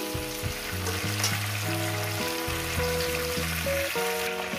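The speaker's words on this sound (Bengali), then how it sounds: "মিনিমাম 2 থেকে 3 মিনিট এটাকে আমি ভেজে" Bata fish frying in a pan with vegetables for a curry, a steady close sizzle running the whole time beneath loud melodic background music.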